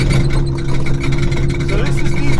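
A Ford Ranger homebrew trophy truck, rear-wheel drive, grinds in low gear into a deep sandy wash, its engine droning loud and steady with a constant hum and rough mechanical texture throughout.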